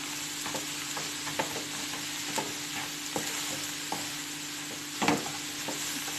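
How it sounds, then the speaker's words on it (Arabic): A filling of olives and tuna fries steadily in a pan, with a continuous soft sizzle broken by occasional stirring scrapes and taps, one louder clatter near the end. "شفتوا انا تنحمرها مزيان، تعجبني هكا تلصق باش تجي بنينه"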